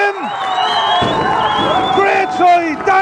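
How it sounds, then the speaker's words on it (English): Crowd cheering and whooping at an Irish rugby playoff match between Enniscorthy and Skerries at Alcast Park after a long-range try, loud rising shouts from close by with a few voices yelling over the roar. "the crowd is absolutely delighted with that one"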